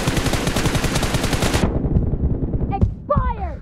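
Automatic gunfire in the video game PUBG rattles in a loud, rapid burst that lasts about a second and a half, then cuts off, leaving a few faint game sounds after it.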